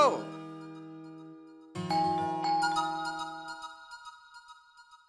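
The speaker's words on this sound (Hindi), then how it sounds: "घंटी बजी है तो कोई आया ही होगा ना" A two-tone electronic doorbell chime rings, followed by a second brighter chime sequence that decays away; no talking.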